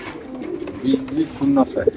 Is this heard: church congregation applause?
no